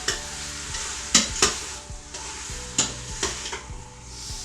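Pork fries with onions and garlic in a pan, a steady sizzle broken by several scraping stirs of a utensil against the metal, close and clear.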